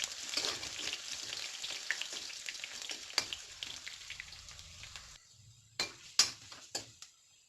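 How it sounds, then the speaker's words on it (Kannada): Garlic crackles in oil for spicy-sour okra palya, a quiet hiss dotted with sharp pops and spatters, thinning toward the end into sparse isolated crackles and stirring knocks, with no voices. "ಒಂದು ಚಟಪಟ ಪಂಡು ತನಕ ಬೆಳ್ಳುಳ್ಳಿ ಪಾಡ್ದ ಇದಕ್ಕೆ ಬೆಳ್ಳುಳ್ಳಿ ಹಾಕಿ ಬಿಡಬೇಕು"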